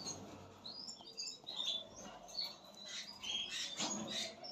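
Tiny chicks in a wide nest give repeated high, thin chirps and squeaks in short overlapping bursts, close by and fairly soft, with no talking.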